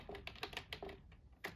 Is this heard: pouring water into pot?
no